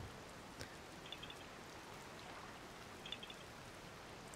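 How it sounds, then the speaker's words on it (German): Steady rain falling in The Legend of Zelda: Tears of the Kingdom, a soft, even patter of drops on surfaces with faint brief accents, continuous and fairly quiet with no voices. "Aber es regnet."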